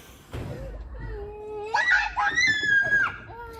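Children scream and shriek playfully in Beşiktaş Park, bursts of high-pitched yelling and squeals close by with a trace of laughter, growing louder toward the end.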